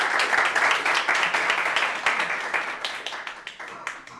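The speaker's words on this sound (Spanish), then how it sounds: "Así que un aplauso." An audience at a Spanish tech talk on technical debt applauds after the speaker is introduced, a dense, sustained burst of clapping that slowly tapers off.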